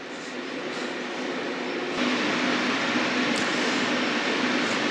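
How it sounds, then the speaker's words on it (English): A small train or monorail at the Korean DMZ tunnel runs with a steady mechanical rumble and whir. It grows slightly louder midway, with faint high squeaks and no voices. "I just wanted to show you up here this little train."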